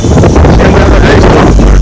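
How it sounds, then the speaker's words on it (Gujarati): Strong outdoor wind buffeting the microphone, a loud, low, rumbling roar that persists through the short moment with brief gusty swells. "અહીંયા આમ તો પવન તો બહુ છે."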